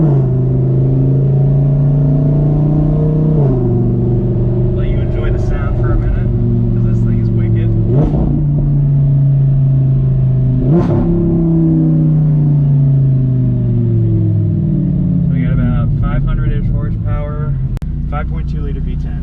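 A 2015 Audi R8 with a 5.2-liter V10 drives along with a steady, loud engine drone from inside the cabin, rising and dropping through several gear shifts.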